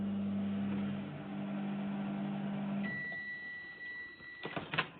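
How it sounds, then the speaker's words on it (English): A microwave oven heating damp salt towels hums steadily, then the hum stops and a long electronic beep sounds, followed by a few clicks and clunks as the door opens. "Put the damp salt towels into the microwave and heat for 2 to 3 minutes on high setting."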